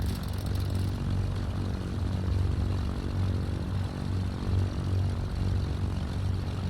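A Cessna C310R twin-engine plane idles on the ground in Microsoft Flight Simulator 2020, giving a steady, even propeller drone that barely changes throughout.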